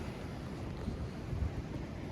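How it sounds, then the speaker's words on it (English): Waves break over a river bar where pressure waves push through, heard as a low, continuous rumbling wash mixed with wind noise, at a steady level with a slight swell midway and no talking. "there's some pretty solid pressure waves pushing through."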